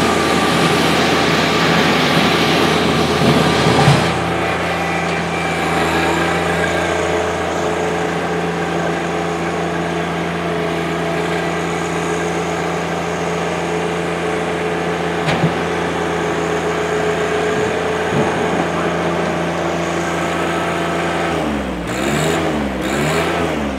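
A 2018 John Deere 1025R sub-compact tractor with a 24 HP diesel engine and loader, running steadily at close range with a constant loud drone and a brief rise and fall in engine note near the end.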